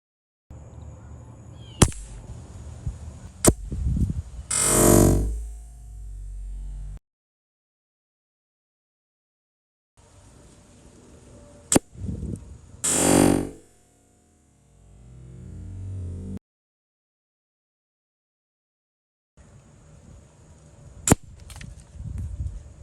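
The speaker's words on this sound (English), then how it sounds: "let's fire some pellets into it, different types of pellets, and see how they react to the ballistic gel" A .177 Umarex air rifle fires pellets into ballistic gel in three separate bursts, each a sharp snap followed by a brief whooshing swell, loud and close with silent gaps between shots.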